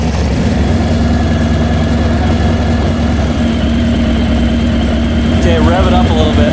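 A Harley-Davidson motorcycle engine idles and is revved gently to around 2,000 RPM during a stator test, a steady low throb held close, with voices talking over it.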